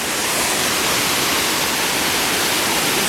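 A waterfall on the Kungsleden trail roars as a dense, steady rush of falling water, loud and unbroken, heard from a bridge with no other sounds.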